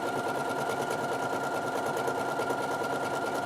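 A sewing machine runs steadily at close range, stitching down a decorative couching cord on a narrow, short stitch setting, with an even rapid mechanical chatter from start to finish and no talking.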